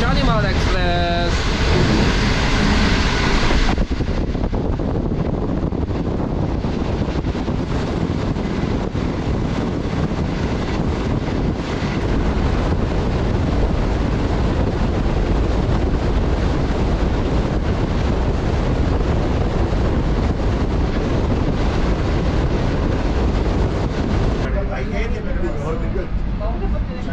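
A Shalimar Express passenger train rushes through a station at speed, making a loud, sustained broadband roar that lasts about twenty seconds before easing, with wind buffeting the microphone.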